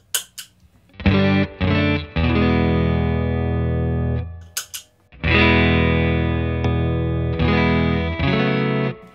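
A Fender Stratocaster played through a Barber Electronics Tone Press compressor pedal into a Fender Deluxe Reverb amp rings out clearly in sustained, evenly compressed chords and notes, with short pauses between phrases and no talking.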